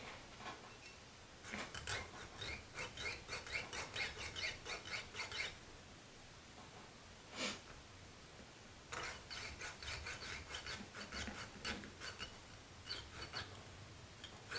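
Quick bursts of rapid, rasping back-and-forth hand-sawing strokes through glass, pausing and restarting, close and fairly quiet.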